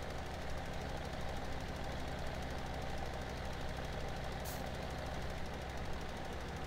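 A heavy tractor engine in a farming video game drones and knocks continuously at a steady pace, a constant low mechanical rumble with no talking.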